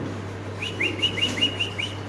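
A Spanish pigeon gives a quick series of about six bright whistled notes over a steady low hum.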